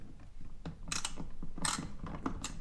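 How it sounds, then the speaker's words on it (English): Ratchet loosening bolts on a Stihl FS38 string trimmer carburetor, a few short clicking and grinding bursts close up, fairly quiet with small mechanical rattles in between. "trying to get the ratchet in there. So we'll just go ahead and loosen these."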